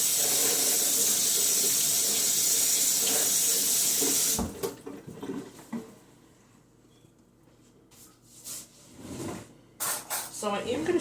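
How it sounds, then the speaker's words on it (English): Water gushes steadily from a tap for a few seconds as hands are washed in a kitchen, then cuts off, leaving quieter handling noises and a voice talking. "I'm going to wash my hands."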